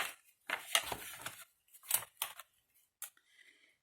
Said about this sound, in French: Et après, on coupe ce qui dépasse.